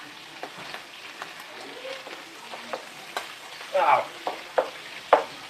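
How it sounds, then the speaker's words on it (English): Shrimp sizzle and crackle as they are turned in a hot pan for a spicy fra diavolo dish, with loud bursts of frying over a steady hiss and a brief spoken exclamation. "We're turning the shrimp."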